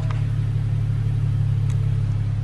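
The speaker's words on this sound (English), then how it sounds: "Just started the car." A BMW 435i M Sport automatic idles steadily after starting, giving a smooth low rumble that holds even and continuous throughout with no revving.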